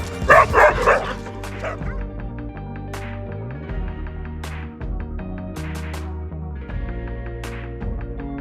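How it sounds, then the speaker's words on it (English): Two dogs bark and yip in a quick burst at the start, then whimpering and occasional yips continue over a steady low hum, fairly close by. "Who let that dog"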